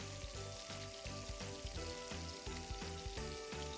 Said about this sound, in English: I've reverse seared it in the pan, which means I just put a crust on it